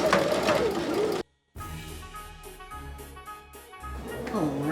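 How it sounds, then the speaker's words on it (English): A sewing machine runs a straight stitch through polyester fabric in a steady rapid mechanical whir lasting a few seconds, with talking just before and after it. "I'm going to just do a straight stitch and make sure that I am on my 1/2"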